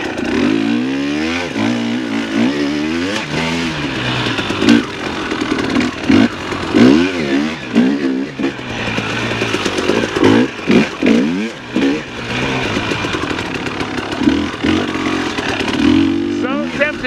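A dirt bike engine runs and revs after a bump start, loud and close with rising and falling throttle surges and some clatter, while a rider speaks over it now and then.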